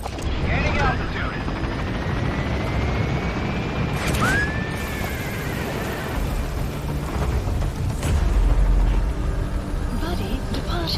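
A helicopter in the video game Metal Gear Solid V lifts off and gains altitude, a steady loud rotor roar and whine rising over game effects, with radio voices talking over it.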